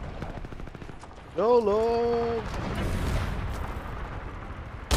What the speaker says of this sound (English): I hear a lot of gunshots going off.